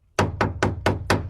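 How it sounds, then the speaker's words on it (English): A hammer strikes five times in an even, steady rhythm, each blow a sharp, close, loud knock that rings briefly before the next. "hammering"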